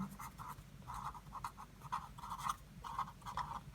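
A quadratic equation is written on a board during a maths lesson, heard as faint, close scratchy strokes in short bursts with small pauses between, and no speech.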